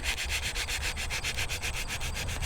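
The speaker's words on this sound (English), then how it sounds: "I'm gonna go ahead and sand it carefully." Sandpaper rubs back and forth over a primed log splitter part in quick, steady strokes, a close, continuous scratchy rasp with no talking.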